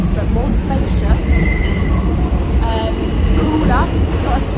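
A New York subway train rides along its rails with a loud, continuous rumble and rattle, broken by brief metallic squeals from the wheels, heard from inside a car.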